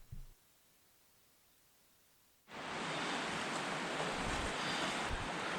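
Strong wind roars across a riverside campsite on the Brightsand-Kopka River, kicking in suddenly after a quiet start and holding as a loud, steady broadband rush with no voices.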